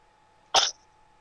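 A single short, sharp sneeze bursts out close by against quiet background hum.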